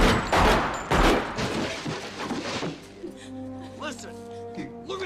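Gunfire in a movie alley scene: a couple of loud, close shots early on, then a voice talking over a lingering tail.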